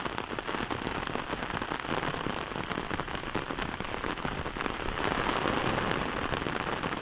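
A sudden heavy downpour drums on the surroundings in a dense, unbroken hiss of raindrops, loud and close, swelling slightly toward the end.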